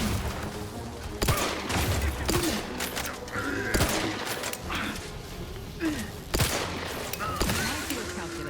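Heavy, sustained gunfire with sharp individual shots and crashing impacts during a sci-fi battle in The Outer Worlds 2, loud and close, with a synthetic voice line heard over the din.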